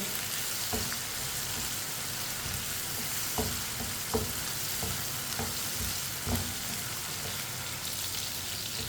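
Rajma masala cooking in a pan while stirred with a spoon, a steady broad sizzle with occasional soft scrape clicks of the spoon, fairly close and even throughout.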